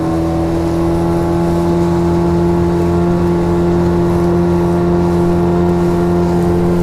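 A Yamaha 15 outboard motor runs at full throttle on a fishing boat, a loud steady droning whine that holds constant throughout, close up with no talk.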